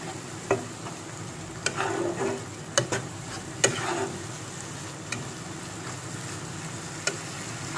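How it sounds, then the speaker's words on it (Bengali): Garlic paste is stirred in a frying pan, with a soft continuous sizzle under scattered, sharp scrapes and taps of the utensil against the pan, close and moderately quiet. "এবার আমি রসুন বাটাটা দিয়ে দেবো, এটাকে আমি ভালোভাবে নাড়াচাড়া করে নেব।"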